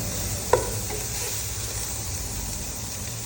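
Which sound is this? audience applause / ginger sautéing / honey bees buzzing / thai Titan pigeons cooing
ginger sautéing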